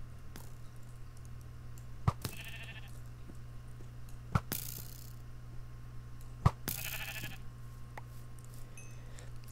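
Sheep bleating in the Minecraft video game: three short bleats spaced a couple of seconds apart, alongside sharp clicks, over a quiet low hum.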